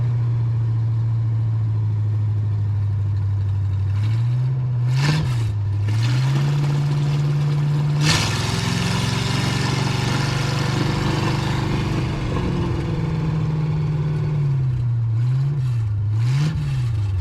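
A 1980 Camaro's engine runs steadily in first gear with a low, constant hum, rising in a louder swell of revving around the middle and wavering through small throttle changes. No one speaks.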